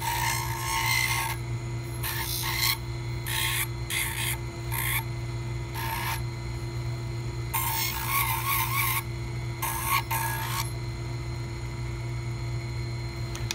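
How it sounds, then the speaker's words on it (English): Rotary bur rounding the trimmed acrylic edges of a partial denture, repeated rasping grinding bursts of a few seconds each over a constant motor hum, close and loud. "Just gonna round off the peripheries that I trimmed earlier."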